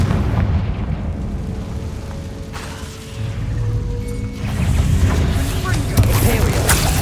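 A Confringo explosive spell goes off in Hogwarts Legacy, a rumbling blast with a deep booming tail and crackling bursts that swell again toward the end, with a voice speaking over it.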